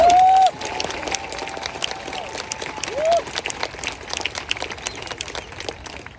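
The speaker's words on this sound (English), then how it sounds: "let's give them a round of applause for doing their part too" A crowd applauds military training instructors at a basic trainee graduation at Lackland Air Force Base in San Antonio, Texas, with steady clapping filling a large space, a brief tonal sweep over it near the start.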